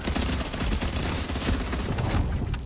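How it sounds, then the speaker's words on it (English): Dense, continuous rattle of turret gunfire in a multiplayer shooter video game, loud and unbroken for a few seconds with a noisy, crackling texture. "Oh, the turret got me."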